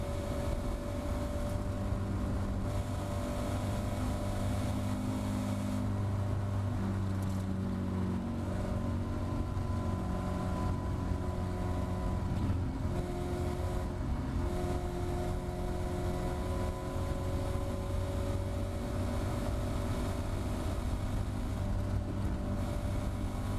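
A Caterham race car engine runs at full power on the Thruxton circuit, a sustained loud drone with steadily rising pitch as it accelerates, heard continuously from close by.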